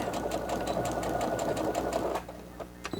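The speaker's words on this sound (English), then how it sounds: "here I'm going to sew a few, back stitch off, and then come back" A sewing machine back stitching a fabric face mask pocket, steady close whirring rattle for about two seconds, then stopping into quiet with faint clicks.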